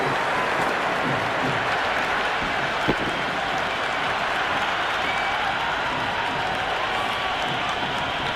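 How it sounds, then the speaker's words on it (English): Simulated stadium crowd at a cricket match in the video game Cricket 26 applauds and cheers in a continuous, broad wash of noise, with one brief sharp knock partway through. "There's a buzz, a real buzz coming from the stands."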